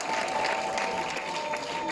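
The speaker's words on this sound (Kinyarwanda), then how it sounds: "duhuze ibiganza bigaba amashyi" Wedding guests applaud together, a steady burst of many hands clapping in a fairly close crowd, sustained without pause, with a faint high tone running underneath.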